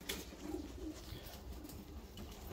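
Japanese fancy pigeons cooing softly in a loft, a steady low murmur of coos with no voices present.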